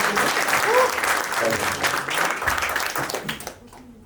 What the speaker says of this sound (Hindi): जोरदार तालियां देवेंद्र जी को।